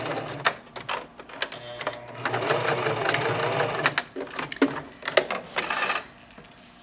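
A sewing machine runs in short bursts and a longer steady stretch of stitching, stopping and starting with small clicks and handling sounds between runs, close and clear with no talk.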